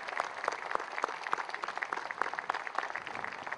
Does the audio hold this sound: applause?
yes